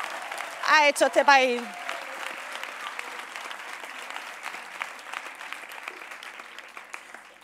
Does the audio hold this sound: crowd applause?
yes